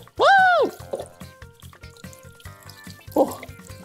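Water splashes and bubbles from a fountain in a children's cartoon, with bursts of liquid sound and drips under a playful voice and light music.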